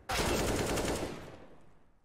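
Rapid automatic gunfire from CS:GO at a BLAST.tv Major 2023 match, a loud dense burst of shots that starts abruptly and tails off over about two seconds.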